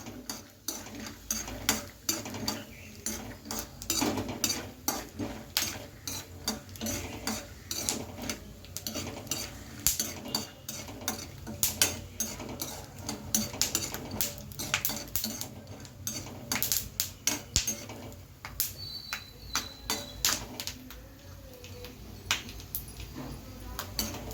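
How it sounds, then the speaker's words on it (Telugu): Peanuts being roasted in hot oil for Andhra-style bendakaya fry, stirred steadily with a metal spoon against the pan, giving dense, continuous scraping and clinking close by with no voice. "పల్లీలు వేసుకుందాం మనం ఇప్పుడు పల్లీలు ఏం చేయాలంటే కొంచెం దోరగా వేపుకొని పక్కకు తీసుకోవాలి"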